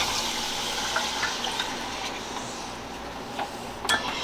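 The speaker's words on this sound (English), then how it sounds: "now what we're going to do is we're going to add our clam juice" Clam juice pours into a pot of soup, a continuous liquid splashing and gurgling that stays moderately loud throughout, with a few small clinks near the end and no voices.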